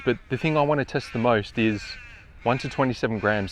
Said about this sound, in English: So just excuse the birds